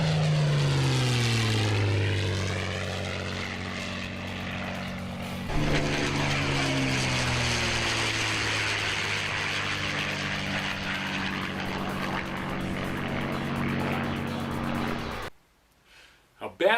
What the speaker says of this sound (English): And a P-51 flies by and everybody's hair stands up on the back of their neck.